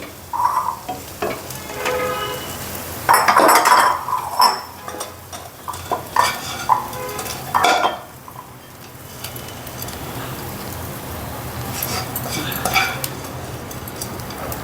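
Cooked ponnaganti leaf and moong dal curry is scooped from a pan into a serving dish, with metal spoon scrapes and clinks against cookware, a faint background sizzle, and quieter gaps between scoops.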